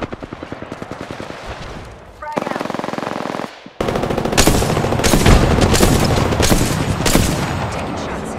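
Rapid automatic gunfire from Apex Legends, loud and close, with bursts stuttering through a brief lull before a dense, sustained barrage of overlapping shots takes over; game voice callouts are faintly mixed in.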